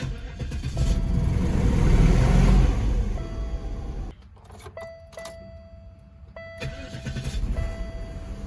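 An Oldsmobile Aurora engine cranks and starts, revs up loudly, then drops to a quieter idle, with a steady electronic chime tone sounding over it.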